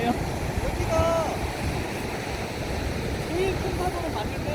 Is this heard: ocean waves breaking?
yes